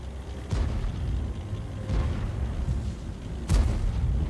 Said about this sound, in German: Und verschießt natürlich den Schuss,